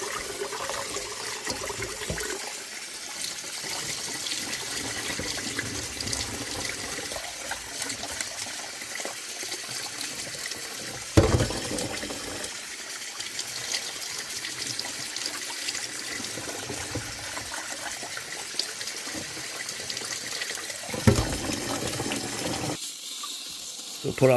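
Water runs steadily from a tap while rice is rinsed in a rice-cooker pot, with a few sharper splashes as the pot is tipped and drained, continuing for the whole stretch.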